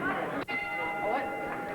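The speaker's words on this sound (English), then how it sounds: "The bell ends round 2." At a 1985 professional boxing bout, a ringing bell sounds to end round two, a clear metallic tone sustained over crowd noise while a commentator talks.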